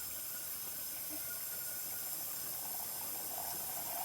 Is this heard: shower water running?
yes